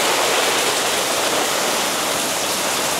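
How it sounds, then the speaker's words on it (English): Heavy rain from a Hurricane Milton squall pours down in a dense, steady roar of hiss, loud and constant for the whole stretch, with no voices. "This is just more like heavy rain. Look at the rain."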